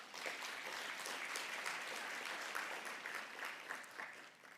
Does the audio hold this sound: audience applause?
yes